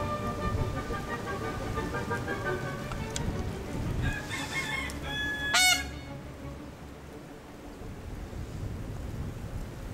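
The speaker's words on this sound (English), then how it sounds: "That's a white female hen." Honking, goose-like fowl calls come in a run of harsh repeated cries among birds kept alongside a white hen and peacocks, close and fairly loud, followed by a sharp squawk and then quieter ambient noise.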